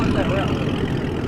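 A small car's engine running at a car cruise meet gives a steady, loud, close rumble that holds evenly throughout.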